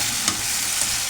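Tomatoes frying in a pan for a curry, a steady close hiss of sizzling oil with a faint stir or clink partway through, no voices.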